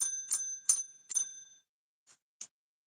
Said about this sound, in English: let me just use my magical bell